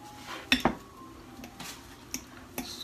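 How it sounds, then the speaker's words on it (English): A fork chops avocado for homemade guacamole in a bowl, giving a few sharp clinks and taps of metal on dish, spaced irregularly, fairly quiet, with no talk. "You're going to take a side of a fork and just chop that up."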